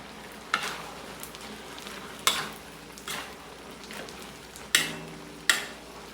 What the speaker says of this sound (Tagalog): Lagyan na natin itong chicharon. Haluin muna natin.